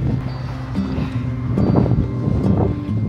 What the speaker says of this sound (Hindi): ठंडी हवा चल रही है बहुत।